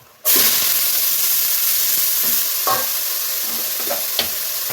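Banana flower tossed into a pan with crushed garlic, bursting into a loud, steady sizzle of frying with occasional stirring scrapes throughout.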